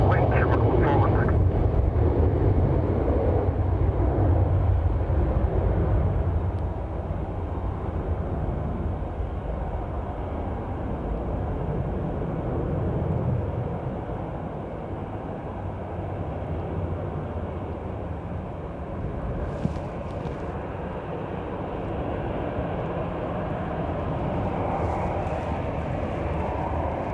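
Airliner engines roar at Dublin Airport runway 10 right on a windy day, a heavy continuous low rumble that eases slightly after the opening seconds and holds steady throughout.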